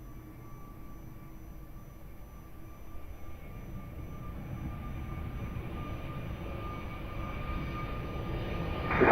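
A plane taking off from Lisbon Airport, a distant jet engine roar that starts faint and steadily builds louder as it powers down the runway, with no talking.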